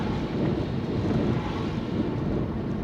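Storm waves break near a coastal road, giving a dense, continuous roar of surf and water with strong wind buffeting the microphone, loud and steady throughout.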